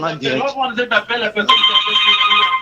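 A telephone rings for an incoming call on a live broadcast, a steady electronic ring coming in under and after a man's speech.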